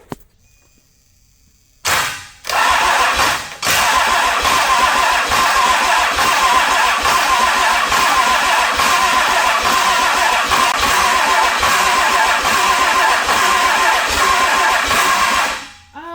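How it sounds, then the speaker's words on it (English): A Cummins diesel engine with a couple of injection lines loosened cranks on its starter in a long, loud, steady grinding run after a brief opening burst, with no clear catch, then cuts off abruptly. "So now we're going to see if this thing will fire up."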